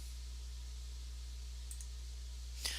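Two light mouse clicks, one soft and one a little sharper, sound in a quiet room over a steady low electrical hum, as an OK button in Revit software is pressed.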